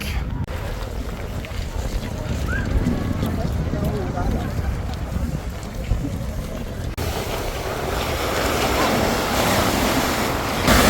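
Sea waves on a beach in Barcelona, Spain, a steady surf wash mixed with wind buffeting the microphone, growing louder and fuller toward the end, with people talking over it.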